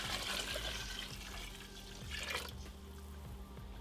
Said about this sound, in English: Now we're going to add our 3 quarts of water.